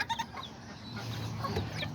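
Small Aztec and Serama bantam chickens cluck repeatedly in a backyard pen, a steady run of close, moderately loud clucks with brief sharper calls and no talking.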